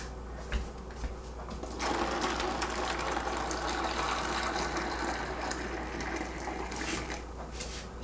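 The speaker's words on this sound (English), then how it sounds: "Now put in hot water." Hot water pours steadily into a container for a water bath used to make yogurt, a continuous close gushing and splashing that starts after a brief pause and runs on to the end.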